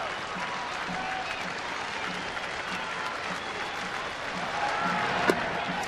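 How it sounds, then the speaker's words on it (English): A baseball stadium crowd in Texas applauds in a steady, dense wash of clapping and cheering at a distance, swelling slightly near the end, with faint commentary underneath. "And he's just going to be met with wild applause when he leaves his field"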